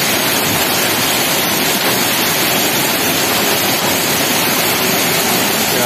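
Water flowing outdoors, a loud, steady broadband rush like a cascade or fast stream, constant from start to end with no voices over it.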